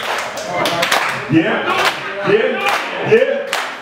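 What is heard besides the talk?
crowd clapping in unison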